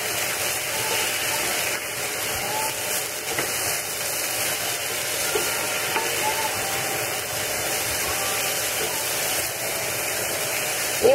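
Sweet potatoes with onions and peppers fry in a pan, giving a steady, even sizzling hiss that carries on without pause at moderate loudness.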